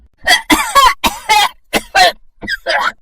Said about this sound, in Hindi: वो जोर जोर से खांसने लगा।